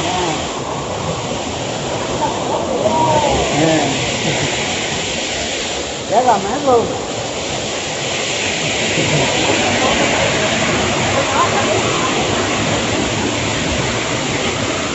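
Water rushes steadily through the Thanh Long mountain stream at Núi Cấm, a constant broadband wash with people bathing; voices call out briefly over the flow.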